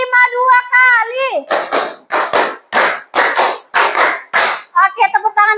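Children clapping hands in counted bursts, sharp claps in quick groups close by, mixed with children's voices chanting along between them.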